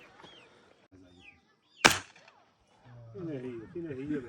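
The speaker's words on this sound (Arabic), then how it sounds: "عمي يونس غيضرب هذا الهدف هذا" One sharp gunshot from a firearm aimed at a target cracks out loud and close after a quiet stretch, followed by birds calling and chirping in the open air.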